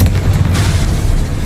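Dense, loud roar of a Confringo spell explosion from the game Hogwarts Legacy, a sustained booming blast filling the whole short moment with heavy low rumble.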